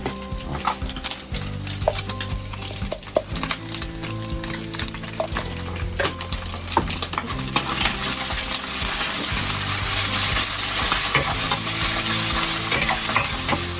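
Chili, ginger and Sichuan peppercorn stir-fried for mapo tofu in a Chengdu home kitchen: steady hot-oil sizzling with repeated scraping and clinking of the spatula against the wok, the frying growing louder and denser partway through, with no voices.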